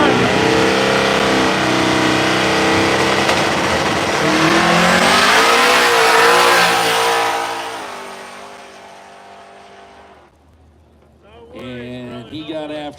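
A 1980 Chevy Camaro drag race car at a no-prep drag strip roars loud and near, its engine note climbing through a sustained rev before fading away, with crowd noise and voices over the end.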